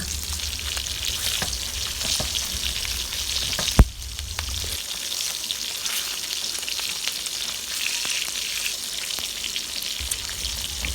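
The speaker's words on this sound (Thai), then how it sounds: "วันนี้ทำทานง่ายๆค่ะย่างด้วยกระทะ" Steady crackling sizzle of pork belly frying in a hot pan, continuous and close, with a brief clatter partway through and no talking.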